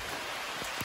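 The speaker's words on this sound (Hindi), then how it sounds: "बारिश देख रहे हो कितनी जोर की हो रही है" Heavy rain pouring onto a rooftop, a dense, steady hiss filling the whole moment at a fairly loud level, with a couple of slightly heavier drops and no voices.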